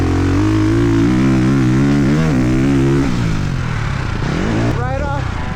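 A Ducati Desmo450 MX motocross bike rides a dirt track close up, its engine revving and falling through gear changes in a loud, continuous drone.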